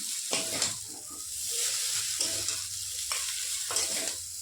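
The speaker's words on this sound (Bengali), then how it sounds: "এটাকে একটু নাড়িয়ে চাড়িয়ে নিচ্ছি ভালো করে মিশে যাচ্ছে" Veg chow mein with Maggi masala sizzles in a frying pan under a steady hiss, while a spatula scrapes and tosses the noodles in several short strokes close by.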